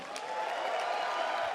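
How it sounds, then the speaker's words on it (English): A convention audience at an opening ceremony claps for a departing guest, a steady, fairly soft wash of applause from a crowd heard at some distance throughout. "Guys, give him a big round of applause."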